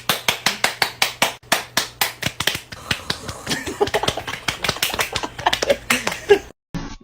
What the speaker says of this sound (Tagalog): Pumalakpak tayo, dali.